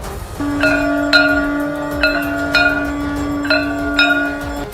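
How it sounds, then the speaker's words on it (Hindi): Temple bells at the Ram temple ring before aarti, struck repeatedly in an irregular rhythm, each strike leaving a bright ringing tone, while a long steady conch-like drone sustains underneath, loud and close. "आरती से पहले शंख और घंटी बजाई गई"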